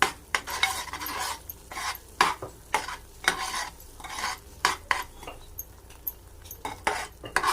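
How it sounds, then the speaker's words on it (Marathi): A spoon scrapes and clinks against a pan while stirring turmeric, masala and coriander powder into a chickpea curry, making close, irregular stirring strokes over a soft sizzle. "1 चमच धनेपूड टाकूया आणि याला छान मिक्स करून घेऊयात"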